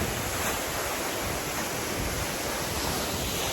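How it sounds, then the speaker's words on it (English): Steady roar of Treasure Falls, a Colorado waterfall, heard from close enough to feel the mist: a dense, unbroken rush of falling water with no talk and no pauses. "this is the second waterfall that I've come to here to view"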